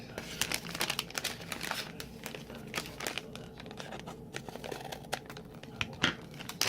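A cake mix packet crinkles and crackles in irregular bursts as scissors cut through it, close and fairly quiet with no voices.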